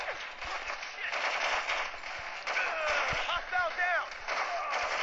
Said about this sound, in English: That was a nice shot.